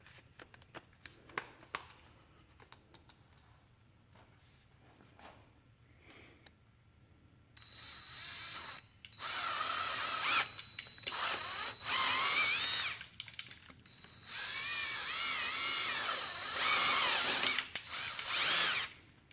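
Power drill boring out a hole in a Jeep LJ transmission case for a thread insert, whining in two sustained close-up bursts after quieter handling sounds and pauses.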